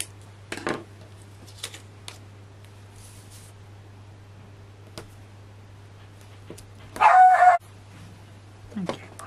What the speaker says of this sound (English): you may have heard the dog barking there